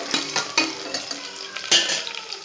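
Cinnamon and fennel frying in hot oil with curry leaves as a spoon stirs them, giving a steady close sizzle broken by a few sharp scrapes and clinks against the pan.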